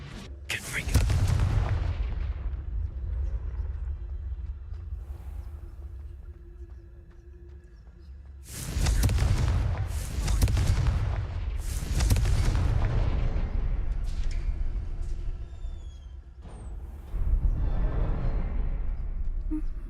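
Confringo fire spell blasts in the Hogwarts Legacy video game: several heavy, booming explosions, with bursts near the start and a cluster of loud blasts in the second half, each followed by rumbling decay.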